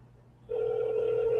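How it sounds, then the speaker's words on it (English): A steady telephone tone switches on abruptly after a quiet line hum and holds continuously. "We're going to see if we can get Matt Hicks on the phone here."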